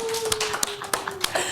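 A small studio audience at a music talk show claps for the guest, with a short burst of evenly spaced, sharp claps close by over a faint steady tone, no talking.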